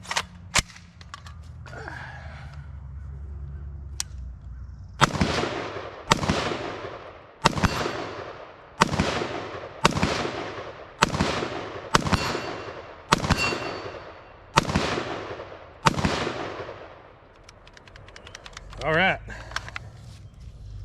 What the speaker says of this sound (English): I got 10 more rounds of this Hornady brass case M193 ball in here. I'm gonna run that just to make sure that it's gonna run with that